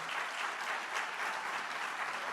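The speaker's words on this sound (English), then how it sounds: "Give him a round of applause" An audience applauds the CEO of Philadelphia International Airport at a State of the Airport event, a steady, dense round of clapping from a crowd, moderately distant and quite soft, sustained without voices.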